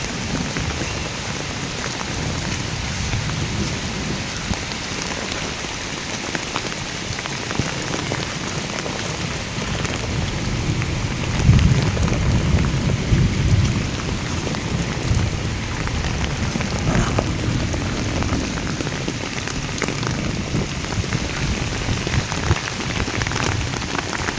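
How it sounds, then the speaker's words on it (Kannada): Heavy rain pours steadily outdoors in a dense, continuous hiss of drops hitting surfaces. A low rumble of thunder swells briefly partway through, and there is no talk. "ಇನ್ನೂ ಬೀಳಾಕತ್ತೈತೆ ಅತ್ತಾಗ ಇತ್ತಾಗ ಮಳೆ ಕಟ್ಟಾಗಿಲ್ಲ"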